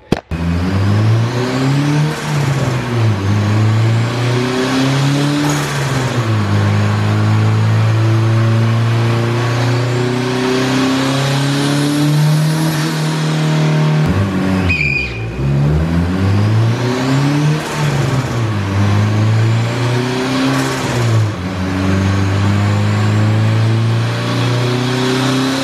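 A tuned Honda VTEC car engine revs hard through a dyno power pull, climbing repeatedly in loud rising sweeps with brief drops between gears or runs, close and continuous with no talk.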